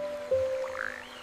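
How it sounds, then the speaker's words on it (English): A frog gives a brief croak, a single short call heard close and clear over a faint background hum. "It's a frog. Ribbit."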